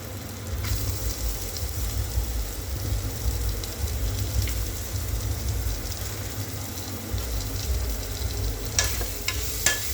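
Chopped onion fries in a pan over low gas for soya khichdi, a steady, close sizzle running throughout with occasional light stirring clinks.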